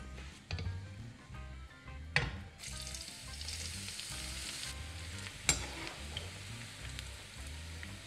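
Eggplant slices fry in a pan for lasagna, a steady close sizzle with a few sharp crackles and pops, while a spoon clinks and stirs in a slow rhythmic pattern.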